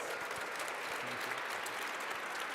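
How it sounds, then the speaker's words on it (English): Sustained applause from a seminar audience for panelists, a steady dense wash of many hands clapping at moderate distance, with no speech over it. "I want to show your appreciation for our panelists with a big round of applause"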